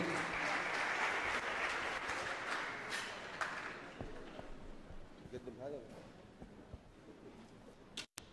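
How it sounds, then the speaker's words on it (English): An audience at an English-language forum in Jazan gives a speaker a loud, dense round of applause that thins and fades over several seconds, leaving scattered claps. "a big round of applause for Muhammad Shaddad again"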